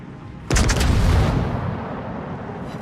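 A battleship's guns fire in a video game with a heavy booming blast that hits sharply and then rolls on as a long, loud rumbling tail.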